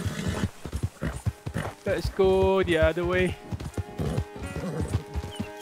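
Hooves clip-clop in a quick, uneven rhythm as a frightened horse in the game Red Dead Redemption 2 lets out a loud, wavering whinny, while someone speaks over it.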